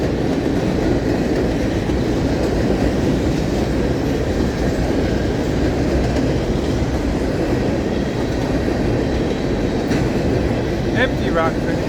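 A CSX freight train rolls past close by, a loud steady rumble with rhythmic clatter of wheels over rail joints and a few brief metallic squeals near the end.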